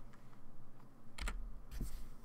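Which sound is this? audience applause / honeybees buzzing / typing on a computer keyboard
typing on a computer keyboard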